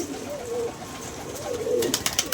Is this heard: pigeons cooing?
yes